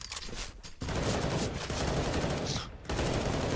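Rapid gunfire from a Counter-Strike: Global Offensive match on Dust2, with dense bursts of shots running loud through nearly the whole stretch, broken by two short lulls, while a commentator talks faintly underneath.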